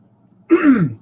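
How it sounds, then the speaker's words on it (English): A single short, gruff throat clearing up close, rising abruptly from near silence and trailing off after about half a second. "Bear with me just a second while I clear my throat"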